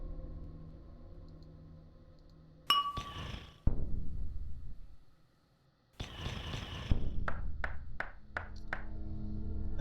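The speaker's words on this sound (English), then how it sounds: "Let's ring the bell." A bell ringing in a video game gives sharp, clanging strikes, then a burst of repeated ringing dings that decay quickly, with short quiet gaps between the groups.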